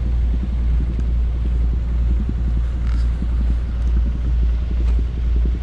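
A wind turbine transfer boat's engine drones past at Conwy, a steady low rumble with faint wind noise over the microphone and no talking.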